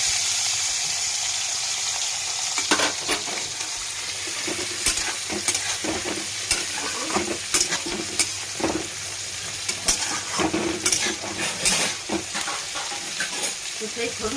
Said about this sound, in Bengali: মাছটা ভেজে নিচ্ছি